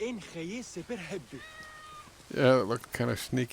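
A cat in the video game Assassin's Creed Origins lets out a single drawn-out meow, clear and fairly close, set between stretches of someone talking.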